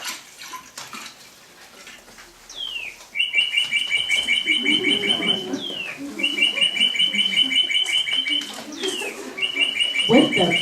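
Recorded birdsong played as a sound effect during a children's school play in Japan, with repeated bright chirping trills in loud bursts over a hall's background rustle and murmurs.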